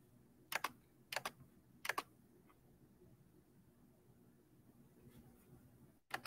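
Computer keyboard typing in short bursts of three quick clusters of clicks early on, then quieter scattered taps over a low room hum, close and fairly faint.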